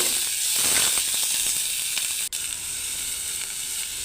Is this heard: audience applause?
no